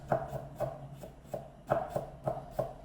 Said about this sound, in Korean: 생강은 얇게 편 썰어서